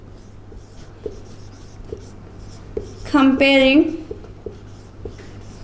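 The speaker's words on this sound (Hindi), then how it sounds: "फिर मैं यहाँ पे लिखती हूँ" A pen scratches across paper in soft, intermittent strokes during a maths lesson, faint and close, with someone speaking briefly over it.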